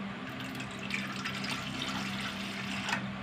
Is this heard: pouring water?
yes